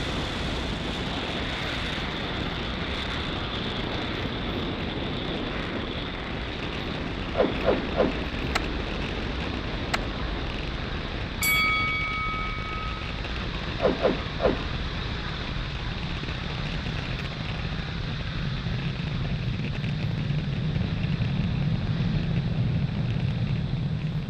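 A SpaceX Falcon 9 rocket lifts off from pad 40 on the SES-18 and SES-19 mission, a steady, broad, distant roar that swells lower and heavier toward the end, with a few faint clicks and beeps over it.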